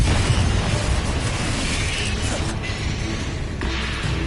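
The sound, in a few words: Confringo explosive spell cast in a video game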